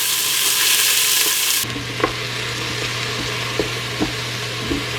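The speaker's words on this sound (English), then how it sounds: "I'll saute my onion for about a minute until it's translucent" Onion sizzling and frying in oil in an Instant Pot on its sauté setting, a steady close hiss that starts loud and broadband, then settles into softer frying with a few light stirring clicks.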